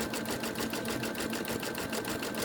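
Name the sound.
sewing machine zigzag stitching placemat fabric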